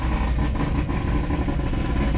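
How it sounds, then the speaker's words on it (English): Car engines rumble and rev continuously close by, a dense, steady roar of motors with no voices. "I can already hear the revving."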